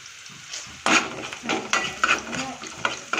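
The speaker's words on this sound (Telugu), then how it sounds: "ఇందులో ఆయిల్ పెట్టుకొని ఆవాలు జీలకర్రలు వేసుకున్నాను. అలాగే ఉల్లగడ్డ వేస్తాను." Onions, mustard seeds, cumin and curry leaves frying in hot oil for a ridged gourd and tomato curry, a steady close sizzle with bursts of crackling and stirring scrapes.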